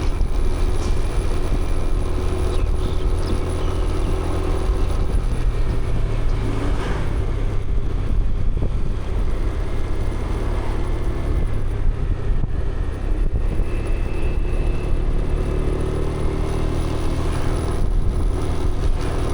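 A motorbike rolls slowly along back roads in Krabi, Thailand, its low engine drone steady under constant wind buffeting and road noise, with no voices.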